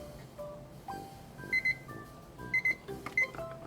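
A kitchen-style timer alarm goes off indoors, sounding a few short, bright repeated beep clusters over quiet background noise.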